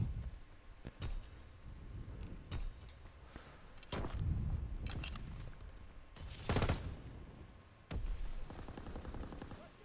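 A small gun firing in a first-person shooter video game, with sharp shots recurring every second or so, some in quick bursts, close and fairly loud, and louder blasts and rumbling game action between them.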